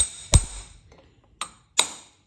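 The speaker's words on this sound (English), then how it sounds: "I'm going to give this a couple of whacks" A brass drift is struck against a block of wood held in a vise, giving three sharp, separate knocks with short ringing tails, the first loudest, then a pause before two more in quick succession, heard close with no talk.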